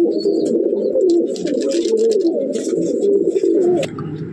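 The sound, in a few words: Giribaz and Madrasi pigeons cooing in a loft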